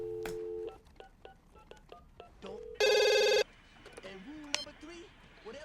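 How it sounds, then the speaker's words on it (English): A telephone in the comedy film Scary Movie gives one short, loud electronic ring after a run of brief beeping tones, with people talking before and after. "Yo, pick up the phone."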